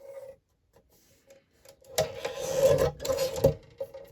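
Paper is trimmed for a scrap-busting collage journal page in short close rustling and cutting bursts after a quiet start, with a couple of sharp snips.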